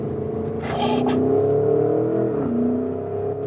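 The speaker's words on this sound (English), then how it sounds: "how calm and collected this vehicle remains when you accelerate it out of the corner" A 2021 Porsche Cayenne GTS Coupe with a V8 in sports mode accelerates out of a corner, its engine note rising steadily and dipping at a shift, close and loud from inside the cabin.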